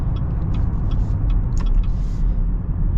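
A Chevy Blazer SUV accelerates with a steady low engine and road rumble heard from inside the cabin, with faint light clicks and rattles above it.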